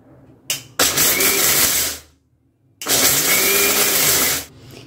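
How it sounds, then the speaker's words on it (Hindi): Mixer grinder jar grinding peanuts for sabudana khichdi, run in two loud whirring pulses of roughly a second and two seconds each, with short quiet gaps between and no talking. "अब मैं इस को पीस लूंगी और मिक्सी को रुक रुक के चलाना है, एक ही बार में नहीं पीसना।"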